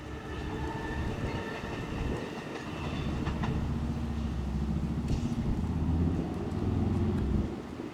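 An Amtrak Pacific Surfliner led by an EMD F125 locomotive rolls past at Fullerton, a steady low rumble with wheel clatter and faint rail squeal building slightly louder toward the end.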